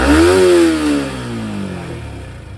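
Close, loud throttle blip from a Yamaha R15 V4 motorcycle, the engine spiking quickly to a high-revving whine then sliding back down to a rough, clattery idle.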